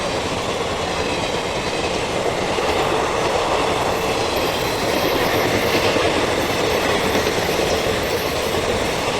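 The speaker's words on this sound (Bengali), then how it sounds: "এই দেখো ট্রেন যাচ্ছে" A train runs past a station platform at Jhapter Dhal, a steady loud rumble of rolling wagons with clickety-clack wheel beats and faint squeals throughout.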